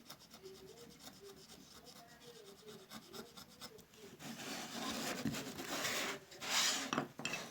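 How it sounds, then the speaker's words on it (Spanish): A gouge with a B-shaped blade carving a woodcut block for xylography, scraping and rasping cuts that start soft and light, then grow louder and denser, close up, with faint voice in the background early on. "Vuelvo mi cuchilla en B y termino de cortar"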